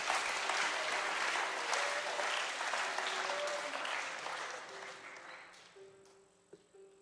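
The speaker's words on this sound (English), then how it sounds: "How about a nice round of applause for Mr." A concert audience applauds a mandolin player after a live folk performance, with steady, dense clapping that gradually thins and fades toward the end.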